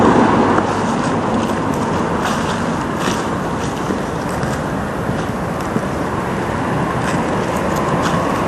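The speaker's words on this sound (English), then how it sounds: "More traffic, so I'm going away from the road." Steady wash of road traffic passing near an old hall in Jarrow at night, continuous broadband roar with wind buffeting the microphone, no talking.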